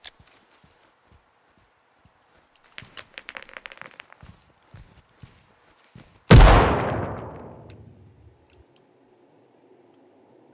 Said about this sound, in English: I'll throw a frag down